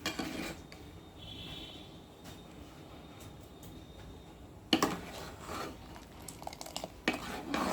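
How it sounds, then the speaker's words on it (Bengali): A spoon stirs sugar and pectin in a metal pot, scraping quietly at first and then clattering hard and rhythmically against the sides, close up and alone. "এবার চিনি আর পেকটিন দিয়ে খুব ভালো করে নাড়তে হবে।"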